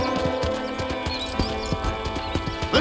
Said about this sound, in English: I picked out a fine horse for you.